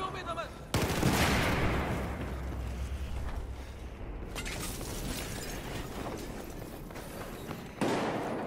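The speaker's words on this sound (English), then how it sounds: "I swear I saw and heard a gunshot here." Gunfire from Battlefield 4 on PlayStation 4 bursts out in sharp loud blasts, with a heavy report near the start and another near the end, separated by a noisy rumbling stretch.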